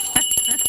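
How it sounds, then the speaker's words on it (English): A bell rings on a morning TV show set, struck in several quick repeated hits that sound clearly over steady studio background noise. "Why are they ringing a bell?"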